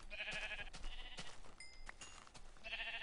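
Sheep in the Minecraft video game bleat several times in short nasal bursts, two or three separate calls with brief gaps between them, fairly quiet.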